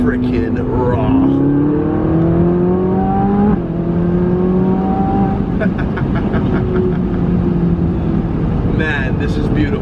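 Loud Ferrari 458 Spider engine revving and climbing through gears, a raw roaring note from its Capristo exhaust close by, with some talking underneath.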